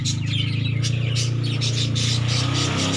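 Pet parakeets chirp inside a wooden nest box, with quick, repeated high tweets over a steady low hum that runs throughout.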